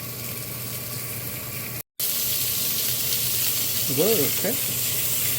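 Pork belly stir-fries in a pot for kimchi stew, giving a steady broadband sizzle that cuts out for an instant and then resumes, while a voice speaks briefly near the end.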